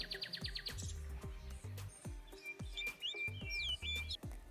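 House sparrows chirp busily and repeatedly, several birds overlapping in quick bright notes, with soft thumping noises underneath.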